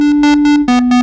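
Propellerhead Europa synthesizer plugin sounds a sustained bright tone whose timbre pulses rhythmically from envelope modulation of the engine shape, with a pitch drop partway through, loud and alone.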